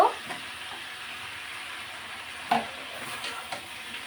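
Eggplant pieces hit a hot frying pan, giving a steady broadband sizzle with a few sharp clatters as they drop and get stirred, at moderate volume with no talking.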